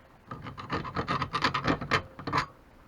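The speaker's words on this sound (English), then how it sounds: "So like the file cleans up that slot a bit better." Quick back-and-forth rasping of a hand file clearing burrs from a slot in a universal hand guard for a Lexmoto XTRS motorcycle, a close, busy run of about a dozen strokes lasting a couple of seconds.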